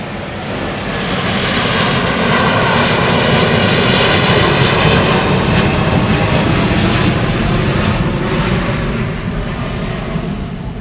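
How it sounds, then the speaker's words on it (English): A loud, steady airplane engine roar passes overhead, a broad rumbling drone that swells and holds for several seconds before slightly easing. "It's worth hearing the planes go by when we're outside"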